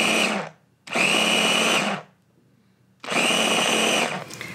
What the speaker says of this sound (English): our little tiny blender is not liking this task. So I'm gonna have to do this kind of slow and pulse.